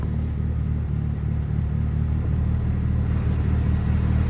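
A Honda Civic engine idles with a steady, unbroken low rumble throughout, close by and fairly loud, with no voices over it.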